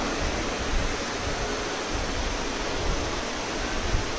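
Heavy rain falls outdoors in Gurugram, Haryana, making a dense, even hiss that stays constant throughout with no voices.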